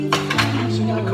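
A knife scraping and clinking against a baking tin while cutting a toad in the hole of sausages and Yorkshire pudding batter, a couple of close metallic scrapes over a sustained background hum.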